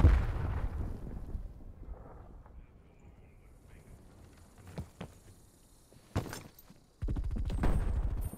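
A Semtex grenade from Call of Duty Black Ops Cold War multiplayer goes off with a heavy boom at the start, followed by scattered sharp gunshots and a rumbling blast near the end amid wind noise.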